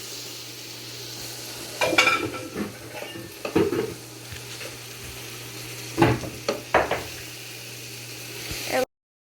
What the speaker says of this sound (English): Joshua's helping mix the onions.